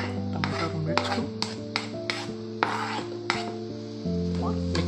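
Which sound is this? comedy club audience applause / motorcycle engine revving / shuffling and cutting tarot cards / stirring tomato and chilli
stirring tomato and chilli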